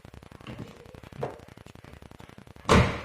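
The front left steel door of a Mitsubishi Lancer GLX shuts with one firm, close, heavy thump after a couple of soft handling knocks, over a steady ticking background.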